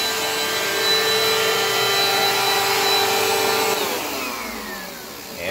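A Dirt Devil Dynamite vacuum cleaner runs continuously and loudly up close with a steady motor whine and airy rush, its pitch sliding down near the end as it slows or shifts load.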